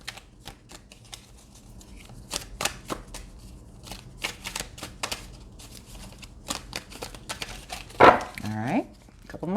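Tarot cards are shuffled in quick, crisp riffles and taps, close up, ending with a louder burst of handling.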